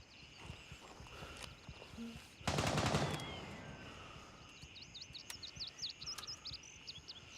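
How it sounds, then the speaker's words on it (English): Burst of gunfire from the Gray Zone Warfare video game, a loud dense volley of about half a second, then a fading tail under a steady game ambience with chirping bird-like calls and small clatters. "They're still shooting at me."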